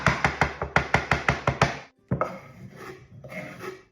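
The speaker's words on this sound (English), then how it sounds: "Fresh sage. I'm gonna chop this up." Knife chopping fresh sage on a cutting board, a quick run of about a dozen sharp close taps in steady rhythm, followed by softer scraping and gathering sounds.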